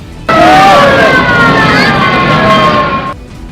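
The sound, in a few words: fire engines arriving at a fire, sirens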